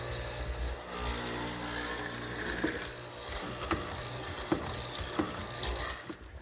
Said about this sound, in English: I just turn the leg around so that the end is facing in the other direction and mill the next mortise